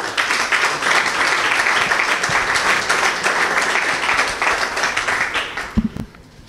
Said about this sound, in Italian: per la Virtus Latina Scalo un applauso da Emiliano Marcelli